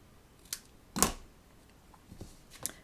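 Scissors cut a small piece of Orchid Oasis patterned paper in half for a papercraft project, making a few soft, close snips with one sharper cut in the middle in a quiet room.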